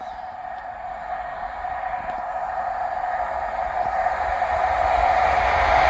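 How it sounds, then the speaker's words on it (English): A ScotRail passenger service from Aberdeen to Glasgow Queen Street passes through Monifieth station, a steady rumbling roar with a sustained tonal whine that grows louder over six seconds, no voices. "Passing through now is the 1445 Scotrail service from Aberdeen to Glasgow Queen Street."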